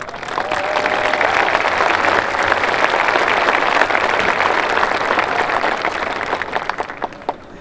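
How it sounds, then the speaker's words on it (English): Graduates applaud at a spring commencement ceremony, a large crowd's dense, steady clapping that holds loud for several seconds before thinning out near the end. "give yourselves, your fellow peers, and those sitting next to you a round of applause"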